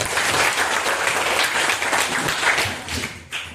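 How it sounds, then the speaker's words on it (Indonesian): Classroom applause for a student named Nafi, a dense steady patter of many hands clapping at close range, continuous for a few seconds before thinning and briefly swelling again at the end. "tepuk tangan untuk Nafi"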